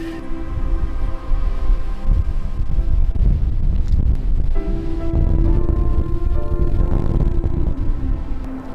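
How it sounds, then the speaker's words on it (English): Cold wind at about 30 degrees gusts through a canyon, a loud, continuous roar buffeting the microphone throughout, with no voices. "It's windy, 30 degrees."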